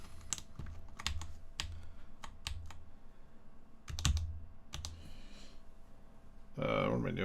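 Typing on a custom 65% keyboard fitted with double-layer ABS keycaps: close, crisp keystrokes in irregular bursts with short pauses between them, ending in a louder scraping rustle.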